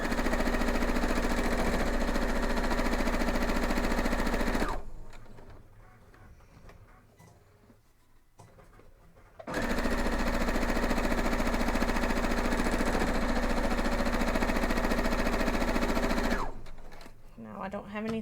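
A sewing machine stitches a quilt block in a loud, continuous mechanical whirr that stops for several seconds, then runs again before stopping near the end.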